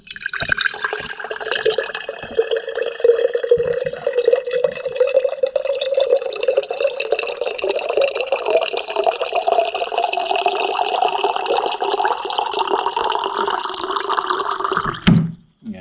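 Water pours steadily, filling a container with a rising gurgle for about fifteen seconds before stopping abruptly.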